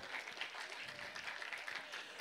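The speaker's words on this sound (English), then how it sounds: "please give a big round of applause for these lovely kids here" Applause from the audience at a school annual day for children who have just performed, with dense, steady clapping that fills the whole short stretch at moderate loudness.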